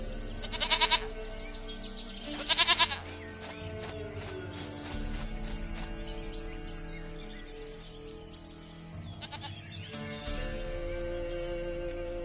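Goat in The Witcher 3 bleating in two short loud bursts near the start, then quieter bleats and farmyard game ambience, with faint bird calls.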